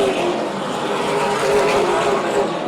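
Super late model stock cars roar around Oyster Bed Speedway in a sustained, loud, dense engine drone with no break, the field running together at close range.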